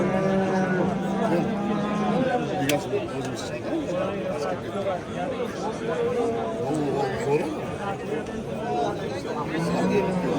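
Cows low repeatedly at a busy livestock market in Angren, their moos rising over a crowd of people talking and bargaining nearby.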